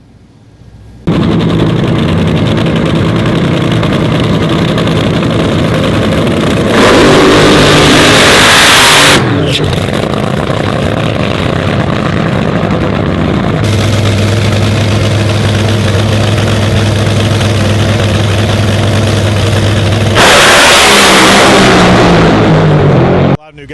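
A drag racing car running on the track, loud continuous engine roar with shifts in pitch and intensity throughout, close and dominant.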